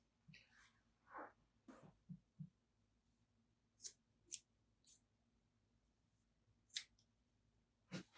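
Sharp scissor snips trimming the cord ends of a macrame plant hanger, a handful of quiet, separate cuts spaced irregularly over a near-silent background.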